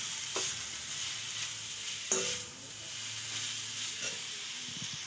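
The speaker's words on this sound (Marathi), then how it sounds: "त्याला मिक्स करून घेऊ आपण." Noodles being mixed and stir-fried in a pan, a soft continuous sizzle with a few sharp spatula scrapes and clinks, close and fairly quiet, no talking.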